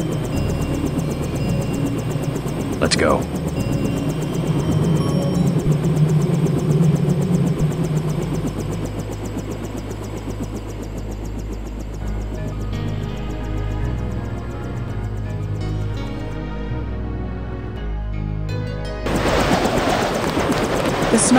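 Helicopter flight in the video game Deus Ex: a steady, loud engine and rotor drone runs throughout, swelling near the end, with a brief spoken line over it.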